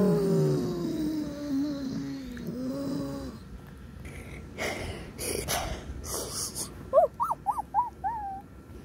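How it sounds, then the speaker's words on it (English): A dog lets out several short, high, wavering whimpers near the end, faint and close, after a low droning rumble and some scattered shuffling noises. "Is that a dog over there?"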